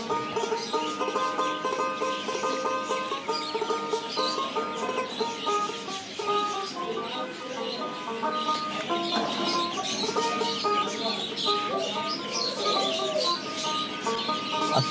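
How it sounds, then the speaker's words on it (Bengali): A flock of Fayoumi (Egyptian) chickens on a village farm clucks continuously and close by. Overlapping calls and occasional chirps form a busy, dense chorus. "আপনার যদি কয়েকটি মুরগি থাকে এই ধরনের মুরগি, তাহলে আপনার বাসা থেকে ডিম মোটে শেষ হবে না"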